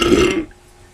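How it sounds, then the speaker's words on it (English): A loud, close belch after drinking Sam Adams beer, lasting under half a second and then dropping into near silence. "that was a Sam Adams burp"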